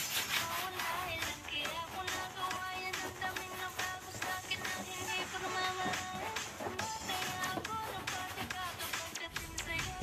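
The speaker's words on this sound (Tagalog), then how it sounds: "Punasan lang natin ng basahan." A rag wipes the headliner of a 2009 Honda Civic during replacement, producing dense, continuous scrubbing and tapping that runs close and busy throughout.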